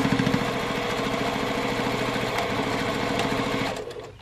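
A sewing machine runs steadily at speed while backstitching over a seam, a continuous close mechanical whirring chatter for about four seconds before slowing to a stop.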